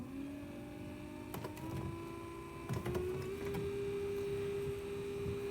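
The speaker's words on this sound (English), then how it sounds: "Turn the trolling motor on." A Minn Kota trolling motor runs on a Native Slayer Propel kayak, giving a steady electric hum and whine that rises slightly in pitch partway through, with a few light knocks over it and no talking.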